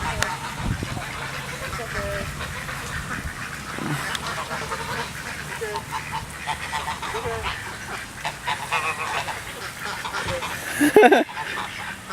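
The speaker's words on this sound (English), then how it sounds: "Just look how many geese." Many geese honking and quacking at Woodland Park, a busy overlapping chorus of calls close by, with people talking over it and a sudden loud burst near the end.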